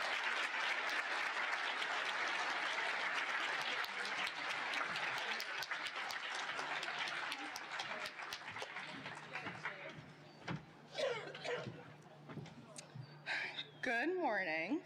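Sustained applause from a large audience at a 2023 associate degree nursing pinning ceremony, loud and continuous at first, then thinning out as a few voices and a speaker take over toward the end.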